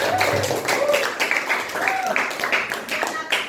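Students in a classroom clap together after finishing a lab session, a scattered, uneven patter of hand claps with children's voices and chatter mixed over it, fairly close.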